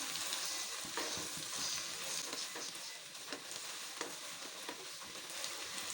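Onions frying toward a dark golden colour for chicken biryani, a steady dense sizzle with faint scattered crackles and occasional stirring taps throughout, close and continuous with no voices.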